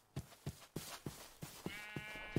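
Sheep bleat repeatedly in the Minecraft modpack RLCraft, a series of short, faint, evenly spaced blocky game calls with no talk over them.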